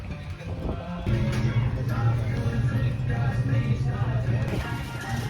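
Strong wind in Santorini, Greece buffets the microphone with a low, continuous rumble throughout, while faint voices and background activity sit underneath.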